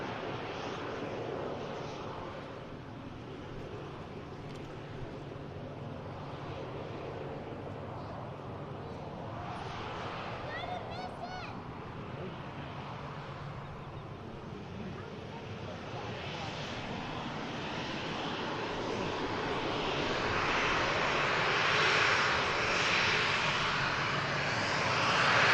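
TUI airliner taxiing at Manchester Airport, a steady jet engine whine and rumble heard from a distance with wind noise, slowly growing louder toward the end.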